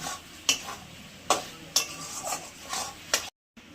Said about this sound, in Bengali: এবারে ভেজে রাখা আলুগুলো আগে দিয়ে দেবো। এটা আমি একটু কষিয়ে নেব।